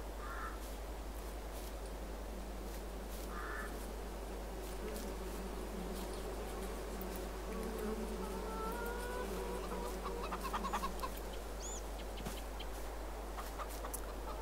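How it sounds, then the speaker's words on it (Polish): Flies buzz steadily inside a farm building, a low, continuous drone that lasts throughout, while crows caw and chickens cluck faintly outside. "Trochę tu muchy latają."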